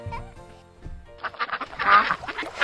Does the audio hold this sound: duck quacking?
yes